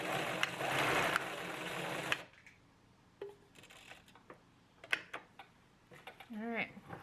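A sewing machine runs loudly and steadily for about two seconds while stitching a fabric mask, then stops, leaving quiet handling clicks and a faint voice near the end.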